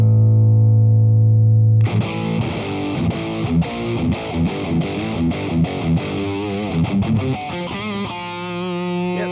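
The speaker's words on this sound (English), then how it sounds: "Now you got a fat distortion, which a distorted sound with a little thickness behind it, a little fatness." An electric guitar plays through a Boss Katana MkII amp with crunchy, fat distortion: a sustained chord, then a run of rhythmic picked notes and chords, loud and close with no talking.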